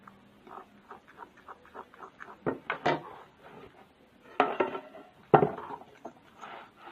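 A basbousa batter with orange is stirred as ingredients are gradually added, producing soft irregular scraping and tapping with a few louder knocks against the bowl, heard close and alone.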